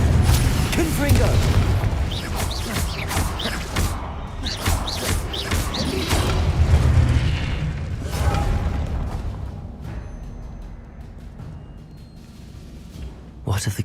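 Explosive Confringo spell blasts in Hogwarts Legacy hit in a run of heavy booms and crashes, loud at first and easing off toward the end.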